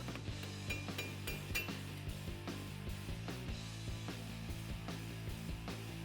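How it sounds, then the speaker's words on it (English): Sharp metallic taps from a hammer striking a flathead screwdriver on a Ford F150 suspension part, repeated in an uneven rhythm over a low steady hum. "I'm just going to tap on it with a hammer in a couple different spots"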